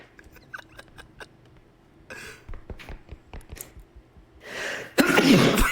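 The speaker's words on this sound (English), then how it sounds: "I'm gonna sneeze again." A sneeze bursts out loud and close at the end, after a quiet stretch of small clicks, breaths and a short sniff.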